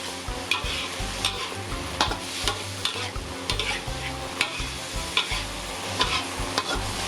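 Long beans, pork and turmeric stir-fry in a pan, with a constant sizzle punctuated by regular, close spatula scrapes and clacks, and no voices.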